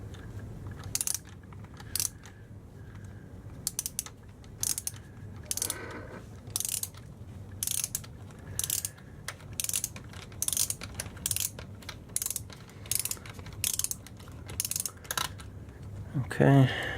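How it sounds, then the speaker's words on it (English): Nut driver ratcheting a nut tight on a Traxxas Slash VXL 2WD RC truck, a steady run of quick close clicks in short bursts, fairly quiet, with a louder clack at the end. "we'll go ahead and start tightening that nut back up."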